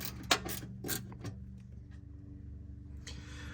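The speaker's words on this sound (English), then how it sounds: "Just get you something that'll work, and then remove these 2 screws." Two screws come out of the interior speaker panel of a Ford Bronco II, heard as close, short mechanical clicks and ratcheting turns early on, then a quieter low hum.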